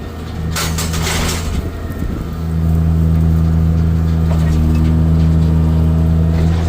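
A big tractor's engine drones steadily while stacking hay bales, a deep even hum that rises in pitch as it revs briefly near the start, then settles into a loud constant idle.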